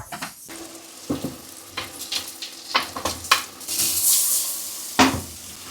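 Onions frying in butter in a pan, a close sizzle broken by a series of sharp stirring scrapes and clinks of a utensil against the pan, no voices.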